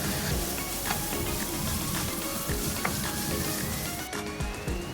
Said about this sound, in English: add the chopped onion and grated carrot, sautéing them for about 4 to 5 minutes